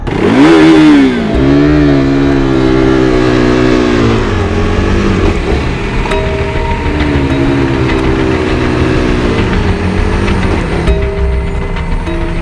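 A motorcycle engine is revved hard and close, rising and falling in pitch through several throttle blips before settling into a loud, rough idle.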